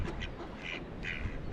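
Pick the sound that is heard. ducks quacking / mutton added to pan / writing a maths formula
ducks quacking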